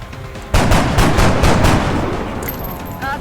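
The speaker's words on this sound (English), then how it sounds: "Taking fire!" Gunfire erupts in XCOM: Enemy Unknown, a sudden loud onset followed by a rapid, rhythmic series of about five heavy shots that gradually decay into a ringing tail, with electronic tones near the end.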